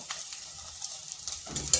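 Food fries lightly in a pan and is turned over, giving a faint, crackling sizzle with soft stirring scrapes and a few small clinks over about two seconds.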